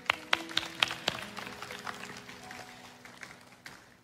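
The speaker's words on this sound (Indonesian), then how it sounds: "Tepuk tangan buat Tuhan Yesus" A church congregation claps in a quick burst of sharp applause that thins into scattered, fading claps, fairly distant and soft.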